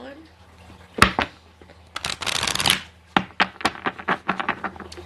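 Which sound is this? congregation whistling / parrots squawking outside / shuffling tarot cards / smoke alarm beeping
shuffling tarot cards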